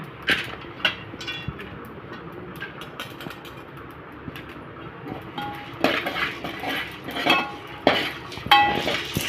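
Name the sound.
sautéing dried ginger and long pepper in a pan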